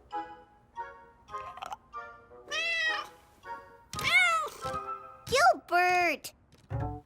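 A toy cat meows in a children's cartoon, giving a run of bright, pitch-sliding mews, several in quick succession and close by, with a brief low thump at the end.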